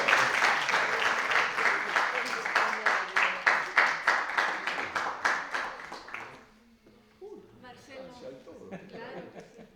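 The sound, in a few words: audience applause after a lecture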